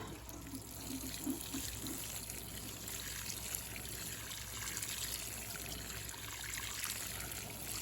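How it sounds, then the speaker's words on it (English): Water pours and trickles steadily at low volume onto potatoes growing in pots, a gentle continuous splashing with no voices. "Let me give them some water."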